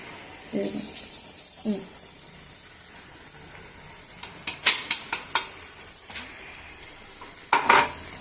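Ivy gourd fried with a coconut mix is stirred in a pan, making several metal scraping and clinking strokes over a faint sizzle. A voice speaks briefly now and then.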